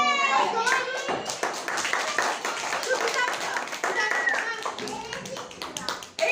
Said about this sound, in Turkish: Tekrar Ceyda'ya da bir alkış